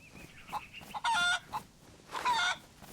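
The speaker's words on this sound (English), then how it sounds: "There's the chicken." Chicken clucking in the DayZ video game, two loud bursts of harsh clucks about a second apart over a quiet background of faint ambient game sound.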